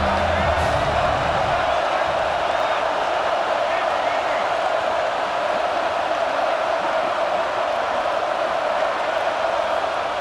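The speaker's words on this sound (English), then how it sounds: "The Buckeye crowd alive on third down." Ohio State Buckeye football crowd roaring on a third down, a dense, sustained wall of stadium noise that stays loud and steady throughout, with a commentator's voice faintly audible early on.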